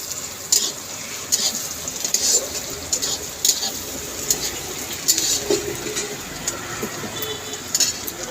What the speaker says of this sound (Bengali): কালো জিরে দিলাম, পেঁয়াজ লাল হয়ে এসছে